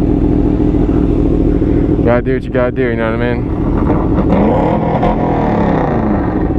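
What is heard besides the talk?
rented motorcycle revving in the canyons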